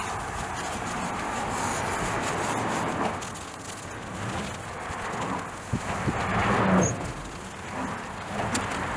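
Superfine steel wool scrubs surface rust off the hot rod wheels of a 1956 Chevy Bel Air being restored, making a close, continuous, gritty rasping that swells and eases in strokes, with no talking.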